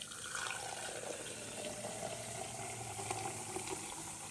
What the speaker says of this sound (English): So I'm gonna squeeze this out to make sure I get all the coconut milk from the husk.